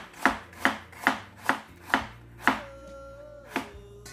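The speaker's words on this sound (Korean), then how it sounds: "이런 식으로 조금만 얇게 썰어서 준비를 하시면 되겠습니다" A knife thinly slicing radish on a cutting board for naengmyeon radish kimchi, with seven crisp, evenly spaced chops close to the microphone and a faint ringing tone between the later cuts.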